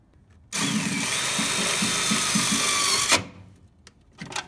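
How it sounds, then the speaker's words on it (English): A power driver runs self-tapping screws through metal to mount a fuse holder in a van build, giving a loud, close, steady whine of about two and a half seconds with a faint rhythmic chatter, then stopping abruptly. "we're going to use some self-tapping screws to get this fuse holder in there"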